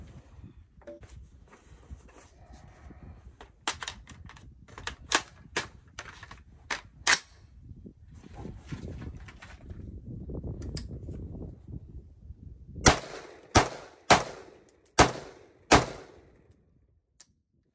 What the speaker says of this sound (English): Fired 5 shots, but for whatever reason, it didn't hold the magazine open. But it fired all 5 rounds.